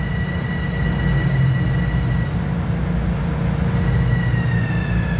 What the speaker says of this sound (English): Train is approaching Grand Central Terminal.